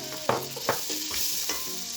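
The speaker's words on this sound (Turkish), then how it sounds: "Soğanımızı iyice kavuralım" Onions frying in butter for soup hiss with a steady close sizzle, punctuated by a few sharp scraping stir strokes of a spoon in the pot; no talking.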